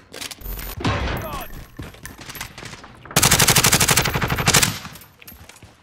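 Automatic gunfire in Call of Duty: Warzone: a short burst early on, then a long, loud, rapid string of shots, with a player's voice faintly underneath.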